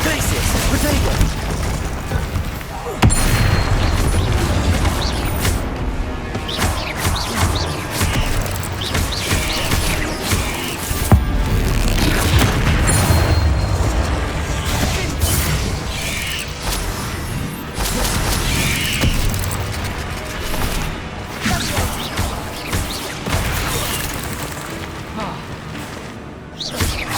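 Confringo blasting spells in Hogwarts Legacy go off repeatedly in a dense, chaotic fight, with booms, whooshes and crashes piling up under shouted spell calls and other voices.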